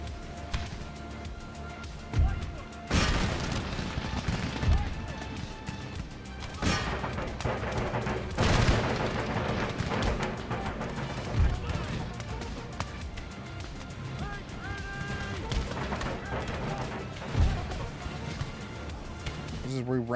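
Gunfire and explosive booms in a video game battle, with repeated loud bursts and cracks over a dense, continuous combat din and music, with someone talking throughout.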